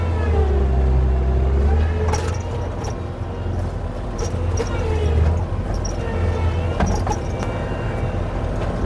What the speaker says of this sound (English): Man, I'm not used to this joystick control on a skid steer, that's for sure.